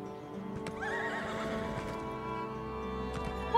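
A horse mount in the game Elder Scrolls Online gives a close, clear whinny with clip-clop hoofbeats, set against a steady musical drone.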